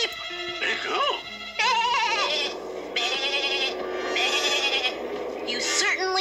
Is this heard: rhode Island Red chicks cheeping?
no